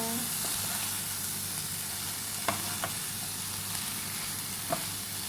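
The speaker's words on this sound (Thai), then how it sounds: "ต้นหอมผักชี คนให้เข้ากันนะคะ" Green onion and coriander stirred into egg frying in a pan, a steady close sizzle with a few light scrapes and taps of the spatula against the pan.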